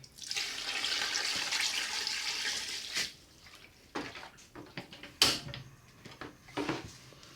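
Water poured into a pot of egusi and achi soup with fish and stockfish, a steady splashing pour for about three seconds, then brief intermittent splashes and clatters, fairly close.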